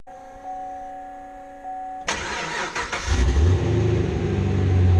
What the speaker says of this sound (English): we're going to take the Camaro out for that drive